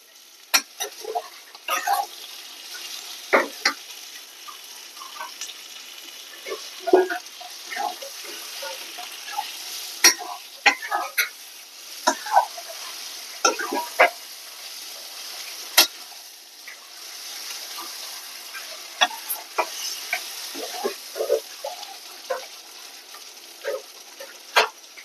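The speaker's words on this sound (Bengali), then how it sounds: "দিয়ে দেবো টমেটো কুচি।" Chopped tomatoes fry and get stirred in a pan for a pointed gourd and prawn dish, a steady soft sizzle broken by frequent sharp spatula scrapes and clinks against the metal, close and moderately loud, with no talking.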